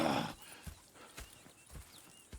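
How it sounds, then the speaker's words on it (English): Horses in the Red Dead Redemption 2 video game, heard as a few soft, spaced hoof thuds and faint movement after a brief burst of noise, fairly quiet with no talking. "Go check the horses are ready."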